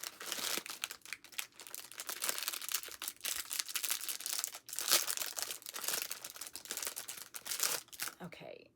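A plastic bag is torn open by hand close by, with steady crinkling and rustling plus sharp tearing bursts, continuing throughout at a low level.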